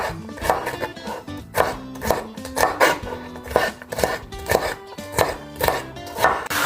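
A knife chops through stacked pepper strips on a cutting board in a steady series of close, crisp thuds, roughly two per second.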